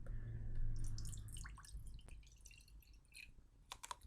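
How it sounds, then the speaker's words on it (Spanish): Water poured from a glass into a deep household plate gives soft splashing and dripping, with a few small drips near the end, close by and fairly quiet. "Ahí traspasé el agua, ¿cierto? Al plato hondo."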